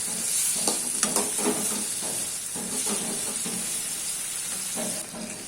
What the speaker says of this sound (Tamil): உடையாமல் நம்ம கொஞ்சம் சிம்லே வச்சு பொரித்து எடுத்துக்கலாம்